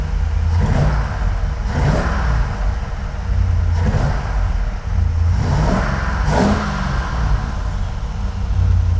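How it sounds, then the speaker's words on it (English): Engine of a 1980 Corvette revving in repeated bursts, about five throttle blips rising over a steady loud idle rumble, close and continuous with no talk. "Fire that up. Rev it."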